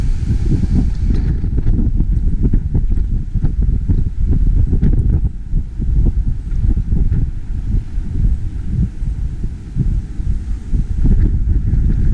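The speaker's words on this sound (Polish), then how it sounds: "czy mnie słychać, bo strasznie wieje." Heavy wind buffets the microphone throughout while climbing a mountain in the Czech Republic, a constant low roaring rumble with gusty surges and no voices.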